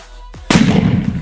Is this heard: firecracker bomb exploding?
yes